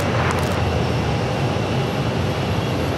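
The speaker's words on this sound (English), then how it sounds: "that flight right there is coming in from Durango. That is Delta Connection operated by SkyWest Airlines" A SkyWest Airlines Delta Connection airliner arriving at Phoenix Sky Harbor Airport, its engines a steady loud broadband roar with no break.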